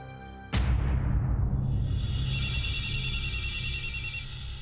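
A telephone bell rings loudly and steadily indoors, a sustained metallic ringing that starts abruptly and continues without any voices over it.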